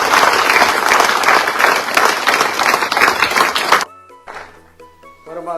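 Loud, close applause from a seminar audience welcoming a speaker: dense clapping from many hands that runs for nearly four seconds, then cuts off abruptly into quiet with a few sustained musical tones.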